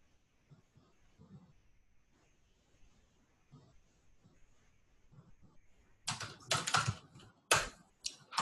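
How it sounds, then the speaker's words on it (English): A command is typed on a computer keyboard, soft scattered key clicks at first, then a louder burst of rapid close keystrokes near the end, with a quiet room otherwise. "So when I type AWS configure"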